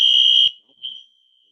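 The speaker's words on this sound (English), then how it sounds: "fire alarm going off. Oh wow!" A building fire alarm blares a loud, piercing steady tone, then cuts off, followed by a shorter fainter chirp that trails away.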